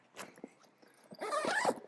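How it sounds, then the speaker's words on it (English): A Vango Mokala TC 450 tent door zipper pulled in two passes: a short tug, a pause, then a longer, louder zip running steadily for about half a second, close by. "the door itself can just kind of zip down as you need it to"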